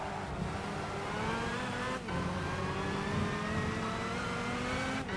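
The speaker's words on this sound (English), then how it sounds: "Does this sound like a normally aspirated 7-litre V12 to you?" Normally aspirated 7-litre V12 race car engine in Gran Turismo 5 at a Le Mans 24 Hours test day, a continuous droning whine that rises steadily in pitch, with brief dips at gear changes, heard alone and fairly quiet.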